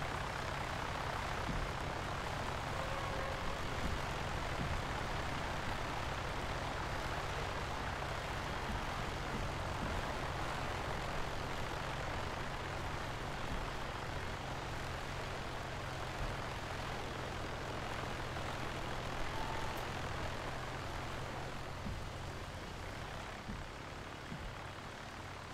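Aircraft engine in a flight simulator game while taxiing across parking spots at an airport, a steady droning hum with constant low rumble throughout, no voices.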